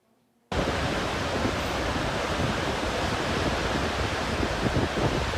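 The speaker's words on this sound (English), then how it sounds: "That is a mudslide." A mudslide in Garfield County rushes down with a sudden, continuous, loud roar that starts after a brief quiet moment and holds steady like a torrent of water.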